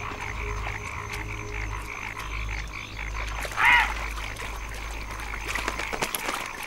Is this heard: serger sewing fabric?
no